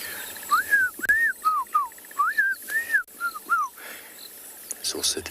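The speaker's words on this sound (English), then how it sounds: "Here a black crown chagra." A black-crowned tchagra calls at sunrise on safari with a series of clear, slurred whistles, about nine in all, rising and falling in a loose rhythm, fairly near and carrying over a quiet background.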